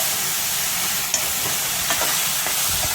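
Onion and garlic frying in a pan, browning with a steady broadband sizzle, a few soft stirring scrapes and one brief clink, close and moderately loud, with no talking.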